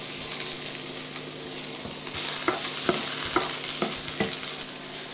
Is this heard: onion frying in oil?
yes